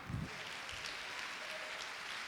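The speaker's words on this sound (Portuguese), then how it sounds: "Se você crê, aplaude o nome de Jesus." A church congregation claps in response to the preacher, a steady, moderately loud wash of applause lasting a couple of seconds after a brief low voice at the start.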